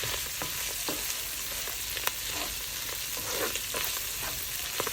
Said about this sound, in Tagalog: Niluluto ko lang yung mushroom tsaka bacon.